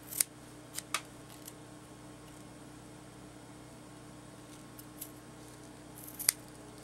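Scissors cut through fabric for a shabby chic fabric postcard. A few faint, sharp snips are scattered over a quiet room hiss.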